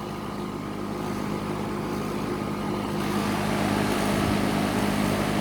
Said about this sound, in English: And the fan just started rattling.